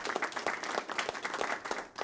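A theatre company applauding an actor leaving the stage, a short burst of brisk, fairly close clapping with distinct irregular claps, moderately loud and without any voices.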